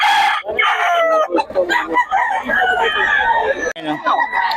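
Roosters crowing repeatedly among clucking chickens at a poultry sale in Bocaue, loud and close, with people talking in between the calls.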